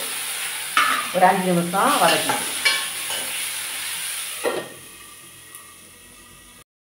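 Tomato, ginger and garlic sautéing in a pan for a Tamil coconut-milk chickpea curry, a soft steady sizzle with scraping stirs, heard alongside a voice speaking throughout before it settles to a quieter hiss.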